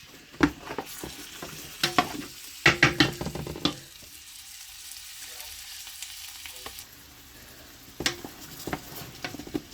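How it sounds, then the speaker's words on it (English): Food sautéing in a pan for a homemade freezer meal, with steady sizzling and frying and bursts of stirring and utensil clatter at the start, a quieter simmering stretch in the middle, then more stirring near the end. "just saute this for about 5 minutes"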